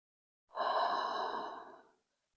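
A single long, deep exhale during a slow yoga flow, breathy and close, rising quickly and fading out over about a second and a half before silence.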